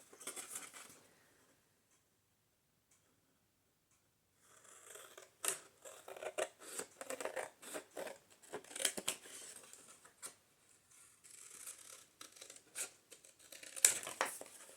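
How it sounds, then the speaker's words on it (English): Scissors snip through paper in quick repeated cuts, starting after a short quiet pause and continuing in irregular bursts, close up. "now we can just cut it out with my scissors"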